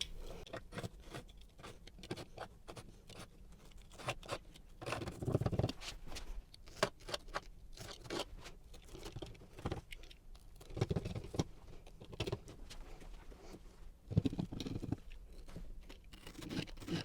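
Foam being cut and pulled apart for a tool-drawer insert, a faint run of close crackling, tearing and scraping strokes with irregular rhythm.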